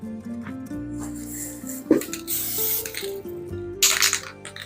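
Short hissing bursts sputter from a clogged can of spray adhesive aimed at a craft pumpkin, uneven and close, against steady background music with a brief clatter midway.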